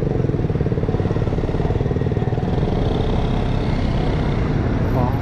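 Euromotor Samurai 155 motorcycle engine running steadily while being ridden, a continuous loud low drone with rough rhythmic pulsing and no speech.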